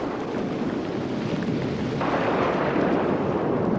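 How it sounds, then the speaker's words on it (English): Thunder during a tropical northern Australian storm rumbles as a deep, continuous roll that swells slightly partway through, loud and broad with a noisy, rain-like texture and no voices. "The lightning and thunder are brought by a fearful being called Namarkun."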